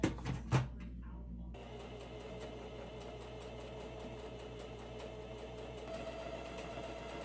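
A domestic sewing machine with its accessory drawer removed stitches a mesh top, a steady fast mechanical whir running on after a couple of clunks at the start, close and alone.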